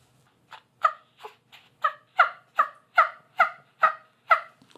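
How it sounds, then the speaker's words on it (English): A run of about ten loud, evenly spaced calls, close and alone, that fits a wild turkey. "waiting on that old turkey to gobble"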